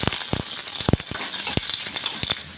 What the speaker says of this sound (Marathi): एक पळी तेल घालून हे छान असं भाजून घ्यायचं